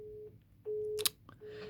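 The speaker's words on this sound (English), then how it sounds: "So now you see it's the dial tone here" Telephone line tone heard in a radio studio: a steady hum in short broken bursts with gaps, interrupted once by a sharp click or clatter, near and clear, with no talk.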